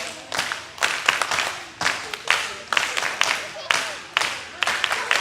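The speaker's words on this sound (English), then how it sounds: "We're going to start with 5 claps." A group claps in rhythmic bursts during a counting song game, several sharp claps separated by pauses while voices sing and talk between them.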